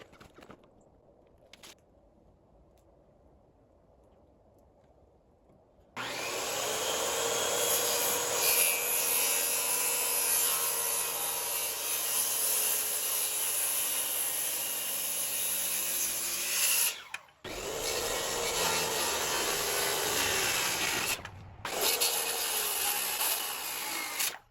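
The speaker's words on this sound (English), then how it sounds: "next we'll get these posts cut to the finished height that they're going to be at" A power saw cuts wooden deck posts down to their finished height on a ramp build. After a quiet start it runs loud and close with a sustained high whirring bite for about ten seconds, stops briefly, then cuts again.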